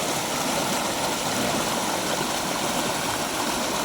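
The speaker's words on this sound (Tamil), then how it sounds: "எவ்வளோ ஃபோர்ஸாக கொட்டிகிட்டு இருக்கு பாருங்க தண்ணி." Water gushes forcefully from the dam at Chembarampakkam Lake, a loud, dense, continuous roar of rushing water with no break and no talking.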